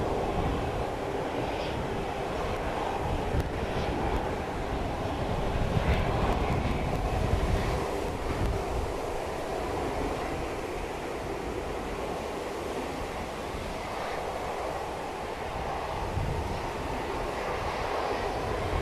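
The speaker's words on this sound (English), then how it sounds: "Their engines are building, they are flexing and fluxing, and it sounds like they're almost ready to go" EasyJet jet engines build up at Manchester Airport, a broad, steady roar that swells slightly and holds, heard from a distance with no talking.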